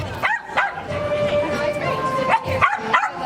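Several dogs bark and yip in short repeated bursts, with whimpering tones between them, fairly close and lively.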